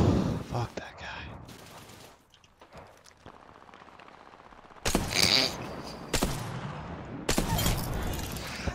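Video game gunfire in Apex Legends, with loud broadband bursts of automatic fire in several separate volleys after a quieter stretch, and a player talking in between.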